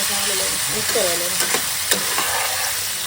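Food frying in a little oil in a home kitchen pan gives a loud, steady sizzle throughout, broken by a few sharp scrapes and clicks of stirring, while a faint voice murmurs briefly in the background early on.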